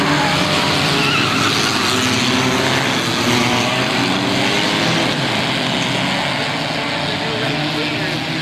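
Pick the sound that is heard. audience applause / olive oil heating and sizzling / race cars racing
race cars racing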